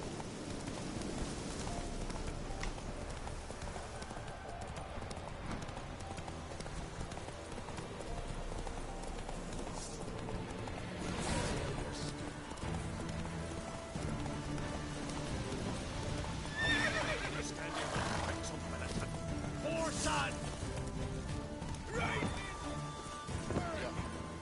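Roach the horse galloping and neighing in The Witcher 3 video game, a steady rhythmic clip-clop with occasional whinnies and a few sharp impacts, interrupted by brief bits of speech.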